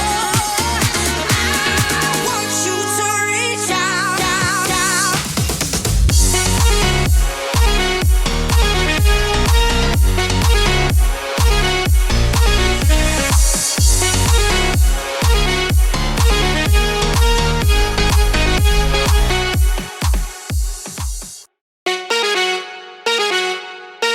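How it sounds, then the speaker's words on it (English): Layered brassy synth lead in a future bass and house track, blending synth with brass, playing a punchy chord melody over drums before cutting out near the end. "it's basically just a brassy synth sound"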